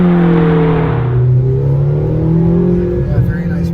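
A McLaren GT's engine revs and accelerates past 4,000 rpm, its rising harmonic growl loud and close from inside the car, tones sweeping upward then easing off near the end.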